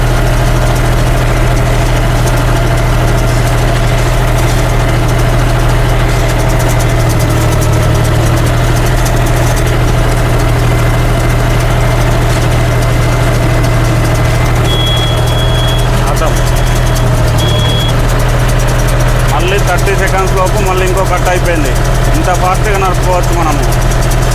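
A tractor-driven hay baler ties grass bales while the engine drones steadily and loudly at close range, a continuous low rumble with machinery clatter and a voice talking over it.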